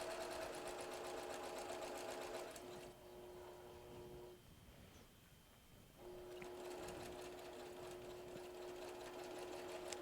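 A sewing machine stitches quilt fabric in quick, even mechanical bursts, pausing briefly in the middle before running again, close by and fairly quiet.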